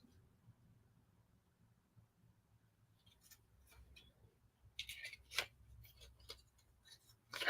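Small scissors snip handmade paper in a quiet room, cutting out a fragile bird shape with thin legs: sparse, faint clicks at first, then a cluster of sharper close snips near the end.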